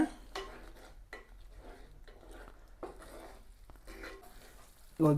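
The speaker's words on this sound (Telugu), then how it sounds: "ఇప్పుడు అల్లం వెల్లుల్లి పేస్ట్ కూడా పచ్చివాసన వేదాకా వేపుకోవాలి" Ginger garlic paste sizzles and fries in a pan for a chicken gravy curry, with repeated scraping stirs of a utensil against the pan and a clatter near the end, no talking.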